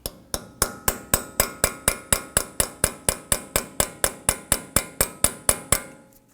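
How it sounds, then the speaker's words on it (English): A hammer strikes a small punch against an axle stud on a Ford F-150 wheel hub, giving about twenty sharp metallic taps at a steady, even rhythm, loud and close with no voices. "We now want to go ahead and just tap the axle stud right here in just a little bit"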